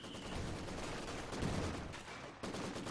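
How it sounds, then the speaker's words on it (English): Wehrmacht mortar fire in Company of Heroes 2, a dense run of loud, close explosive bursts and rattling gunfire packed together with barely a pause, a sharp cutoff and fresh impact near the end. "That must have been a Wehrmacht's mortar"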